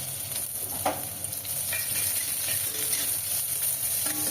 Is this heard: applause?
no